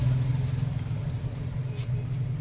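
A Bajaj CT 125 motorcycle engine idles with a low, steady rumble after its carburetor air-fuel mixture is adjusted, continuous, even and moderately loud, with no revving or talk.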